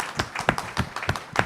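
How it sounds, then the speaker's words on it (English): Sparse, fairly quiet clapping from a small audience at a civic presentation, individual hand claps landing in an uneven patter with no voices over them. "Give him a round of applause, please."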